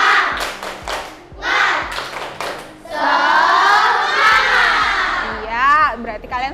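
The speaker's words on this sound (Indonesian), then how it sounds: "Coba tepuk semangat." A class of schoolchildren performs a spirit clap chant, with bursts of rhythmic unison clapping and then a loud shouted group chant close by in the classroom.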